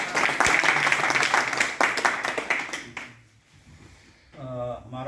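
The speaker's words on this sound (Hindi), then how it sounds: "चलिए जोरदार ताली हो जाएगी।" Loud clapping breaks out at a business meeting, a dense rattling burst that thins into scattered claps after about three seconds, followed by a voice speaking.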